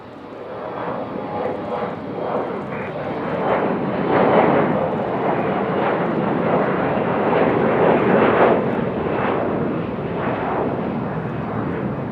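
An airplane departs Raleigh-Durham airport with a sustained jet roar that swells in the middle as it passes nearest, then eases slightly while staying strong.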